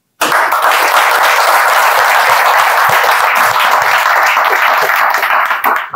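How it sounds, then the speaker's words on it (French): A crowd at a motivational talk bursts into loud, sustained applause, many hands clapping densely and evenly from a sudden start until the end. "je voudrais que vous puissiez applaudir pour vous-même"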